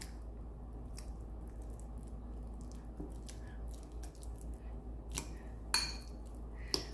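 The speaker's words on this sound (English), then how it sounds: "mash the avocado with a fork" A fork mashes avocado in a bowl, giving soft squishy presses with occasional light clinks of metal on the dish, close and fairly quiet, with no talking.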